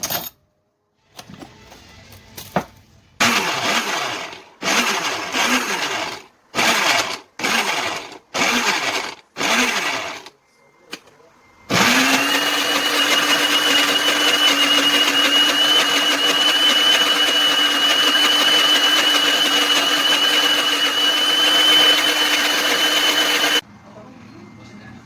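A kitchen blender starts with several short stop-start pulses, then runs continuously as a loud steady whir through basil, garlic, salt and oil for pesto before cutting off.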